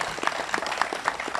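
A small audience at a community group home groundbreaking gives a round of applause, sparse uneven claps recorded outdoors at moderate level.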